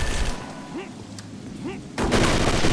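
Gunfire crackles in the video game Chaser, with a few sharp shots over a rumbling backdrop before a loud, dense burst of fire breaks out at the end.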